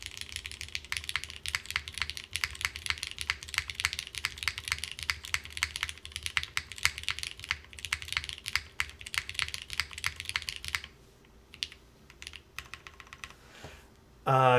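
Rapid, steady typing on a Keycult mechanical keyboard with Cherry switches, dense clicking keystrokes close up that thin to sparse taps toward the end.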